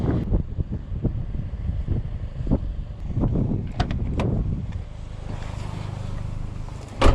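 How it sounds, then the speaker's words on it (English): Wind gusts over a high viewpoint with a view stretching roughly 30 miles, a steady blustery roar buffeting the microphone in irregular pulses, loud and close, with no voices. "Oh, it's pretty windy up here."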